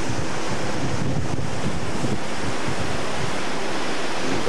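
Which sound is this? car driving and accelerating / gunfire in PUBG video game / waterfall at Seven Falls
waterfall at Seven Falls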